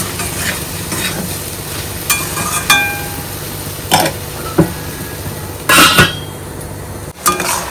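Spinach fries in a pan with salt, turmeric and gram flour: a low steady sizzle runs under repeated scraping stirs and clinks of a spatula against the pan, close and fairly loud, with no talk.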